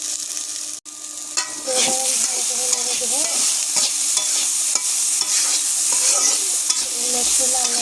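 Noodle ingredients stirred and fried in a pan with turmeric and salt: loud continuous sizzling with repeated scraping spoon strokes close by, a brief cut near the start.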